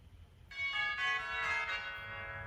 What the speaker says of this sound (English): This is some tubular bells.